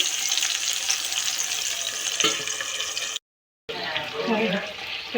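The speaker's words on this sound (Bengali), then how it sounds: "প্লেটটা ধুয়ে জলটুকু দিয়ে দিলাম একটু" Rinse water from a plate poured into a pan of pabda fish, a steady hissing, sizzling pour, briefly cut off, then bubbling sizzle as it settles.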